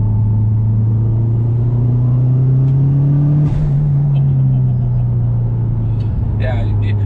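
Subaru WRX STi 12 track car engine pulling hard under turbo boost, a loud steady rumble with rising harmonics that dips briefly midway then carries on, heard close from inside the car.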